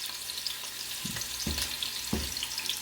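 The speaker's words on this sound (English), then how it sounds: "I'll fry mine till mine's real brown" Chicken pieces fry in a pan of hot oil Cajun style, a steady close sizzle with a few soft knocks as the meat is turned or stirred, with no voices.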